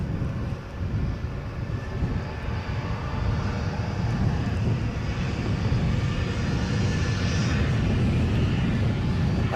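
An Embraer jet passing at Edinburgh airport, a steady broad engine rumble and rush at moderate distance, slowly rising toward the end, heard alone without talk.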